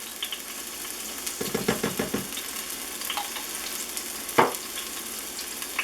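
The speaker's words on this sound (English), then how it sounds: "I'm going to add in my garlic, 4 cloves" Four garlic cloves sizzle in hot oil in an Instant Pot for refried beans, a soft steady frying hiss with a brief run of stirring scrapes and a single metallic clink.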